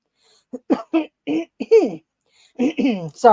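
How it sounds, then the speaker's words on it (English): A person clears their throat several times up close, short raspy coughs and vocal grunts separated by brief pauses. "I'm just clearing my throat"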